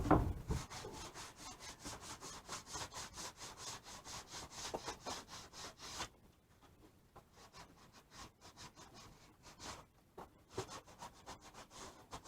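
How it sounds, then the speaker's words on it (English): Wood is sanded by hand with sandpaper in quick, even back-and-forth rasping strokes, close and steady, easing to lighter strokes halfway through, with no talk. "Just clean that up a little bit with sandpaper."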